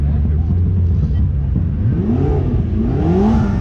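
A supercar engine revs loudly at a charity car show, rising pitch sweeps climbing over a steady rumble amid crowd noise and excited voices.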